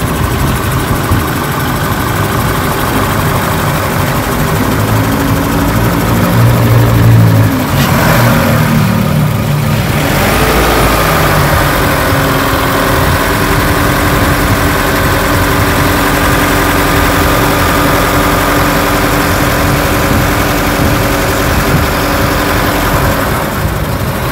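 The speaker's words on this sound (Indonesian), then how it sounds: "Terus kita ingin tahu, dengerin suara mesinnya kan" A 2022 Honda BR-V with automatic transmission idles steadily at close range, a loud, continuous engine rumble with a brief shift in tone partway through, no voices.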